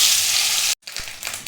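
Chopped coconut fries in a cumin and dry red chilli tempering, a bright loud sizzle that cuts out abruptly, then resumes softer with scattered spatters and stirring.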